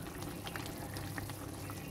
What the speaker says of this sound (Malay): Biarkan seketika sehingga kuahnya mendidih.